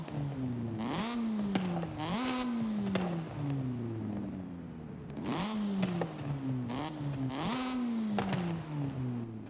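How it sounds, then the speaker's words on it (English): A Mazda RX-7 rotary engine in Forza Horizon 5 revs repeatedly, each sharp rise to a buzzy high pitch falling back to idle, in rhythmic bursts close and loud with no talking. "let's go ahead and listen to the rotary engine and hear how this car sounds"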